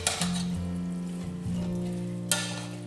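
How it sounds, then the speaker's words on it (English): Cabbage and ground beef fry in a pot over medium heat, a spoon stirring through them with scraping, clattering strokes over a steady close sizzle, with a sharp clank near the end and no talking. "I'm gonna mix all this cabbage and burger together"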